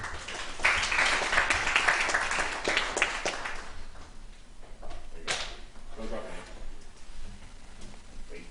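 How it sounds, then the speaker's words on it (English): An audience at a tech meetup applauds a speaker: a burst of clapping fills the first few seconds and then fades under voices and movement in the room. "So big round of applause for Web.War."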